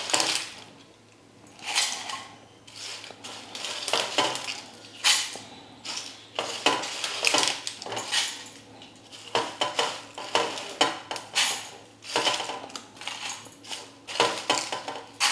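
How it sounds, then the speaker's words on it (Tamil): A kitchen mixer grinder jar is being worked with roasted garam masala spices, giving bursts of clattering and rattling with short pauses between them, close and fairly loud. "இப்போ மிக்சியில் போட்டு நல்லா பவுட்ரு பண்ணி எடுத்துக்கலாம்."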